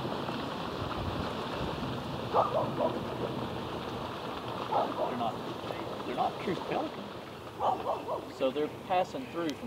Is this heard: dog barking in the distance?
yes